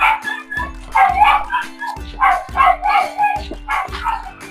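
Dogs bark and yip repeatedly at close range near a court, several loud overlapping barks in quick bursts with whiny tones between them.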